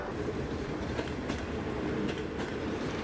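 A train rolls steadily along the rails on the route from Harbin toward Changchun, a continuous rumble with faint rhythmic clacks of wheels over track joints, heard from inside without voices.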